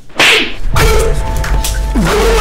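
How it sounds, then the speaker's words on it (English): A sharp slap across the face in a dramatic film scene, a loud crack followed by a second smack, with no talk. "This slap was a revenge for what you did to Mama."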